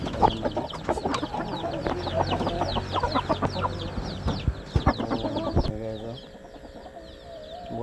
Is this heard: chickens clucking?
yes